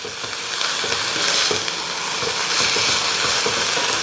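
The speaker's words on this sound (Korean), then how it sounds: "지금부터는 뚜껑 덮지 마시고 살펴보시면서 살펴보시면서 충분히 볶아줘요" Bracken fern (gosari) and chopped green onion stir-fry in a pan, giving a loud, steady sizzle and frying hiss with faint scraping of stirring throughout.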